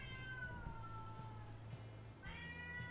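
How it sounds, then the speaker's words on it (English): A crying cat meows repeatedly at a door, long drawn-out wails close by, one near the start and another rising cry near the end, over a steady low hum. "Let me just let my crying cat in."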